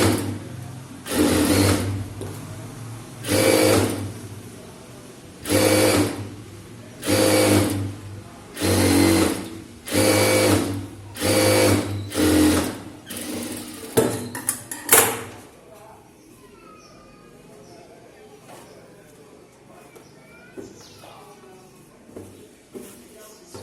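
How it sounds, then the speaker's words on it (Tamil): An electric sewing machine stitches a blouse seam in a run of about nine short bursts, loud and close. The machine then stops and quiet room sound follows. "ஒரு டாட் பிரிஞ்சிருச்சு, அதான் தையல் போடுறேன்"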